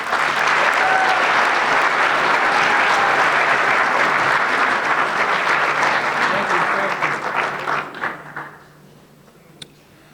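Audience applause at a community awards banquet, a dense wash of many hands clapping loudly and evenly, then tapering off to quiet by the end.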